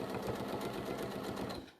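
A brief burst of sewing-machine stitching during free-motion couching, fast and close, with dense needle rhythm that stops abruptly near the end.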